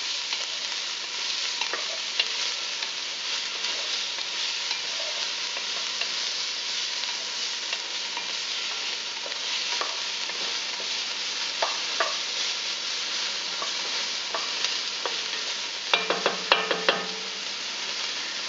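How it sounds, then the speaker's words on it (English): Onions sizzle steadily in a pan with browned sausages for meatball sauce, a continuous close hiss with occasional soft clicks from stirring and a brief flurry of scraping near the end. "I'm going to add some onions. We're going to cook those just a little bit."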